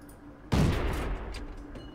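A tank shell fires in World of Tanks with a sudden loud boom, followed by a rumbling tail that fades over about a second into quieter battle ambience.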